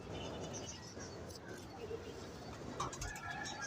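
Pigeons kept at a home loft coo faintly amid a noisy background, with soft bird calls scattered throughout.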